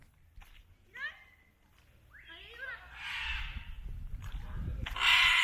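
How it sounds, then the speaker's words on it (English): Large macaw parrots calling in the jungle at Copan Ruinas, Honduras: two harsh, scratchy squawks a second apart, then louder rustling and raspy calling close by near the end. "this jungle is full of macaws, large parrots"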